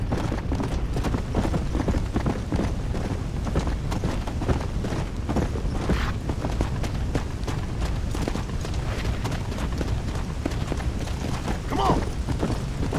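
Steady, rapid hoofbeats pound continuously beneath dense game noise and rumble, a horse galloping without pause in Red Dead Redemption: Undead Nightmare.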